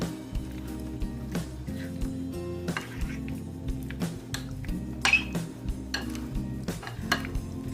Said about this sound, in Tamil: இந்த சிக்கனை வந்து இந்த மசாலா வந்து நல்லா கோட் ஆகுற மாதிரி இதை வந்து இப்போ நம்ம மிக்ஸ் பண்ணிடலாம்